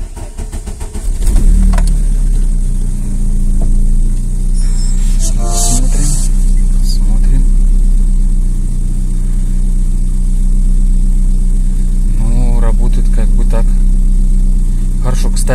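A Volkswagen Passat B3 with a faulty coolant temperature sensor, which makes it misfire, stall and hunt at idle, cranks and starts, then settles into a loud, close, steady idle hum, with someone talking over it.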